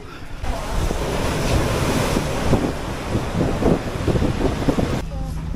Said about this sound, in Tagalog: Grabe ka lang ng alon.